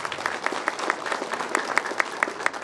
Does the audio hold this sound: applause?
yes